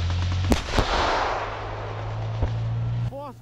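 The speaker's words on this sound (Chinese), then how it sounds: "炮声一响，豹二坦克立即退出正面射击的空旷区" A Leopard 2 tank cannon firing on a Ukrainian battlefield, a sharp near blast followed by a second report and a later distant boom over a steady engine rumble, with a voice briefly heard at the end.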